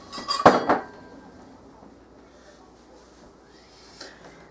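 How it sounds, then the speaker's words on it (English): Kitchen utensils clatter loudly as a wooden spoon is pulled from among them, a short burst of metallic clinking followed by quiet, with a faint clink near the end. "I gotta get my wooden spoon, Stella."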